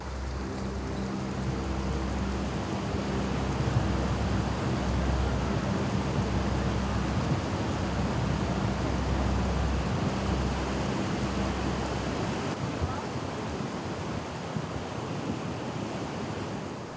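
Floodwater surges over a protective wall in a mountain valley where a bridge has collapsed, a loud, steady rushing roar with a low rumble and wind gusts all through, close by and with no voices.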